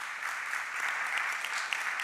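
A church congregation applauds steadily, many hands clapping together in a continuous, even wash of sound.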